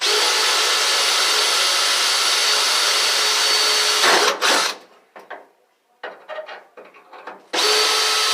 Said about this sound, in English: I'm going to drill those pilot holes